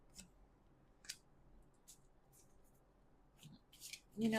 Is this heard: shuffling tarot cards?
yes